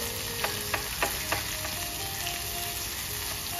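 Bombay duck (bombil) fish sizzling steadily in a pan over a gas flame, with a few soft taps and scrapes as the pieces are turned.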